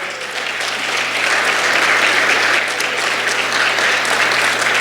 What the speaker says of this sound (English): can we have applause for all the wonderful speakers this morning?